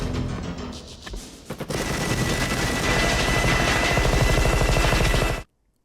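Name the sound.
gunfire from the video game Rimworld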